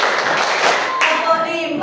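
A class claps along in a counted pattern, with brisk hand claps blended with voices chanting in unison. Both stay close and loud throughout the short burst.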